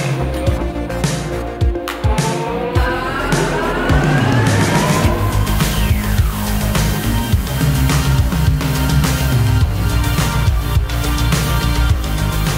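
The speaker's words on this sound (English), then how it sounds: "It's even given us the People Mover," A Detroit People Mover train rides along with steady loud rumbling and rattling, sliding pitch sweeps as it moves, and scattered clunks and knocks throughout.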